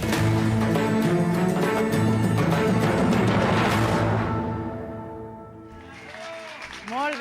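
Audience applause at a premiere event in Benilloba, a dense steady wash of clapping for several seconds that fades out near the end as a voice begins talking.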